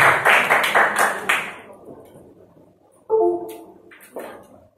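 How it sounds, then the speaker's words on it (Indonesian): Audience at an Indonesian Prudential agent training session claps in a short burst that fades within about two seconds, followed by a brief voice and a few scattered claps. "Beri tepuk tangan teman-teman ya"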